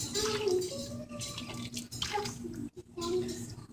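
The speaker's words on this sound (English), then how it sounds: "And then pour it in the bowl." Hot chicken noodle soup pours from a pot into a bowl with a sloshing, splashing liquid rush, close and fairly loud, briefly interrupted before a final pour, while voices can be heard faintly.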